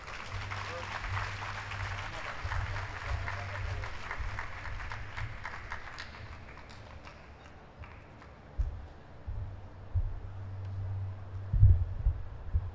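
An audience at a university parents and family orientation applauds in a sustained round of clapping that fades out, followed by a few scattered thumps and handling noises over a low hum.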